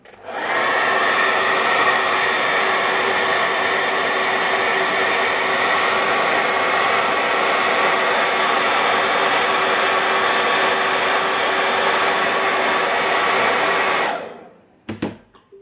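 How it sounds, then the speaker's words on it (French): A hair dryer blows steadily and loudly on a drawing of a comic-book character for about fourteen seconds, then switches off, followed by a few faint clicks and handling sounds. "On ressèche le sèche-cheveux."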